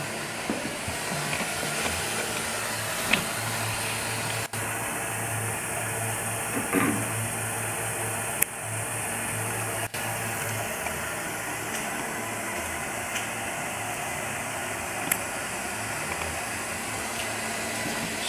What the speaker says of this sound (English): Draining the radiator, flushing it, getting all this crap out of it that shouldn't be in it.